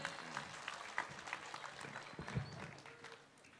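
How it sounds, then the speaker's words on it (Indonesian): A crowd claps for a man named Pak Alfian at a Ramadan tarawih gathering, the applause faint and scattered over a few seconds with light background noise. "Tepuk tangan untuk Pak Alfian."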